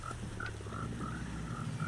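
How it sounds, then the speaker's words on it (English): Minecraft frogs croak in a steady run of short, evenly spaced calls, about seven in two seconds, over a low background hum with no talking. "And I've got a couple of frogs in here."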